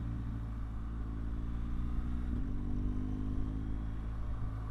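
A BMW R1200GS twin-cylinder motorcycle engine hums in a steady, smooth drone while riding, with constant road rumble and no speech.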